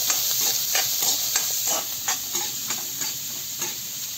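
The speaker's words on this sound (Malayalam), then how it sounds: "അതിൻ്റെ കൂടെ തേങ്ങാക്കൊത്തും പച്ചമുളകും ഇത് മൂന്നും കൂടെ നമുക്കൊന്ന് വഴറ്റാം." Coconut pieces and green chillies sautéing in a pan, a continuous bright sizzle with regular scraping stir strokes about every half second, close and fairly loud.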